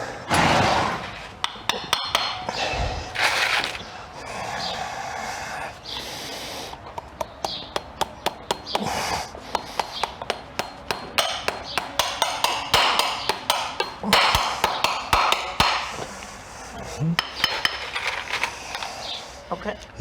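A farrier hammers nails through a horseshoe into a horse's hoof, giving rapid runs of sharp metallic taps in a steady rhythm, close and loud, with pauses between runs.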